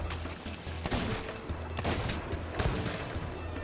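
Gunfire in the pirate game Sea of Thieves, several sharp shots and blasts over a noisy battle backdrop, loud and close with irregular spacing.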